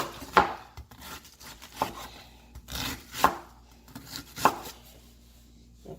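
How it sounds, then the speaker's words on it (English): A knife chops through cabbage on a cutting board in four or five separate crisp cuts spaced about a second apart, close and fairly quiet, with no voices. "now I'm going to cut it up so I can to fit in the blender"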